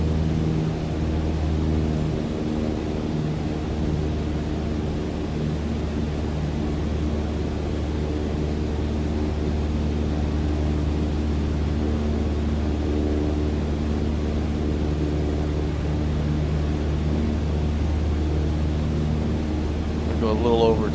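A light aircraft engine in a flight simulator holds a steady drone at 2,300 RPM, with dense low harmonics that stay loud and unchanging throughout.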